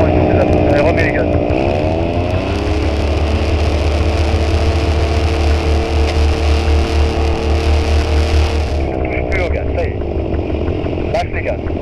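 Paramotor engine in flight throttling up: the small two-stroke note climbs in pitch and holds a loud, steady buzzing drone for several seconds, then drops back as the throttle eases, with wind rush throughout.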